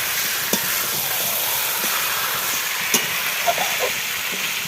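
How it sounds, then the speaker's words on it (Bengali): Meat being sautéed in a pot at an outdoor winter picnic, a steady broad sizzle with a few faint stirring clinks and no talk. "এই দেখো মাংস কষানো হচ্ছে এখন।"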